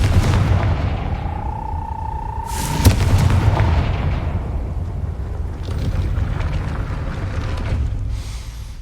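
In Hogwarts Legacy, a Confringo blast spell fires with a rising magical whine, then bursts in a sharp explosive boom, followed by rumbling ambient game atmosphere.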